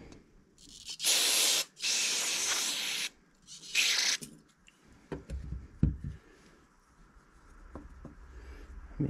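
Carb spray blasted from an aerosol can onto a Briggs engine carburetor from a Troy-Bilt Bronco lawn tractor, three loud hissing bursts followed by quieter handling clicks and small knocks.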